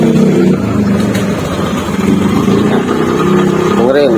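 A Honda Beat Deluxe scooter idles roughly and unevenly up close, its uneven low engine chug running steadily throughout with faint talk underneath.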